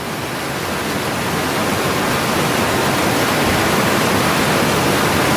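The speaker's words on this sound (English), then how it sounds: "It forms a small waterfall about 10 meters high and flows through a narrow crack" A small waterfall about ten meters high pours through a narrow crack in the rocks on Auyantepui, giving a steady, loud, unbroken rushing wash with no other sounds.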